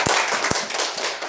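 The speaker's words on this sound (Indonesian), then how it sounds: "tepuk tangan untuk kelompok 2" A classroom audience applauds a student group after its presentation, with a few sharp close claps standing out over a dense, continuous patter of hands.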